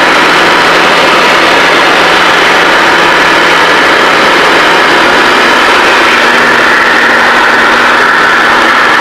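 Inside a small airplane on landing approach, the engine drones loud and steady as the throttle is eased back, a constant close-up roar with a faint hum underneath and no audible change in pitch.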